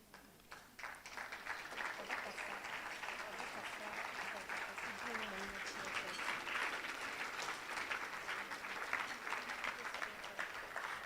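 Sustained applause from an audience at an entrepreneurship festival pitching event, a dense, steady wash of clapping that continues evenly for the whole stretch, with faint voices mixed underneath.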